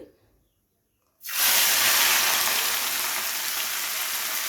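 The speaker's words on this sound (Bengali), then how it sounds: "এবারে কড়াইয়ের তেলটাকে গরম করে এখানে দিয়ে দিতে হবে পেঁয়াজ কুচি" Chopped onion lands in hot mustard oil in a wok, and after a brief near-silence a loud, steady frying hiss and sizzle bursts in and carries on evenly.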